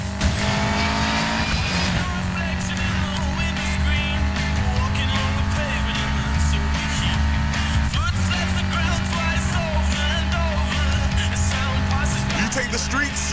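Cars racing to an airfield, engines roaring loud and close throughout with tires squealing and skidding, steady high-revving drone under the chase.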